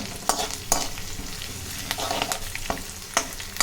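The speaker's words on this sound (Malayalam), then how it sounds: "ഇപ്പോൾ ഇതിലേക്ക് വെളുത്തുള്ളി, ഇഞ്ചി, പിന്നെ മുളക്, കറിവേപ്പിലയൊക്കെ ഇട്ടിട്ട് ഇങ്ങനെ ഇളക്കുകയാണ്" Garlic, ginger, chilli and curry leaves are stirred in a hot pan: a loud, continuous sizzle broken by several sharp scraping strokes of the spoon, with no voices.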